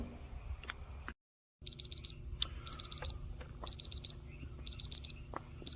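Digital cooking thermometer temperature alarm during pork smoking, sounding in quick bursts of four high beeps repeated several times, clear and close above low background noise.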